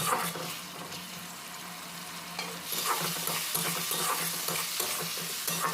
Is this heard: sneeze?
no